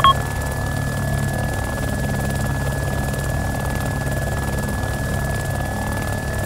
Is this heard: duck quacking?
no